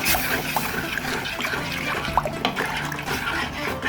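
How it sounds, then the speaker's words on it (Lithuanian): Mushroom broth poured into a simmering sauce in a pan, a continuous liquid splash and trickle close by, with small bubbling and clinking bits scattered through it. "Supilame grybų nuovirą."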